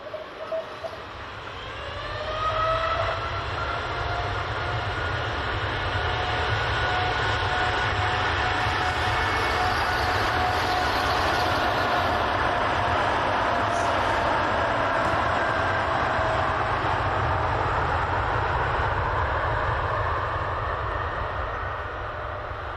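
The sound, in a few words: TUI Boeing 787 Dreamliner jet on takeoff roll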